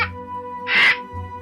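A single loud crow caw in an animated story, one harsh burst about half a second long standing out over a steady background music bed.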